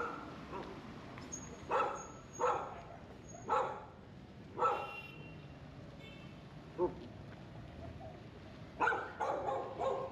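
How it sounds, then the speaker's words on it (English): Three excited dogs bark from inside a property in Nicaragua, sharp separate barks repeating every second or so at moderate distance, ending in a quick cluster, with faint birds in the background. "There's three dogs in there that all want to bark at me."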